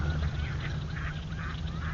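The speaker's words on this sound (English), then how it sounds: "There's some ducks." Ducks quack and honk in overlapping calls over a steady low background rumble, a busy flock nearby.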